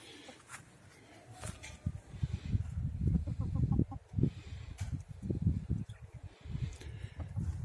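Several chickens cluck and murmur continuously close by, their calls overlapping in an uneven rhythm, with a faint rooster-like call in the background.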